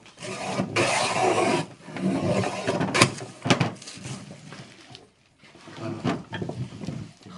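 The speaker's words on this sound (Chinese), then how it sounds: "这个料就有点皮了，我先把这皮了给它刮一下" A hand tool scrapes the bark off an old piece of wood in long, rough, rasping strokes with short pauses between them, loud and close, with no talk.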